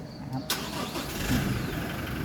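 A car engine starting with a push-start button, a sharp crank catching and settling into a steady idle close by, with people talking over it.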